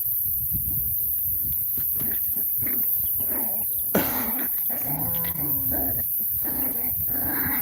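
Small puppies growl and whimper during rough play, close and continuous, with a brief sharper yelp partway through and no talking.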